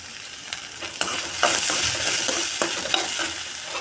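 Ripe ivy gourds fry in hot oil, sizzling steadily while a spoon stirs and scrapes them in the pan at a regular pace; no one speaks.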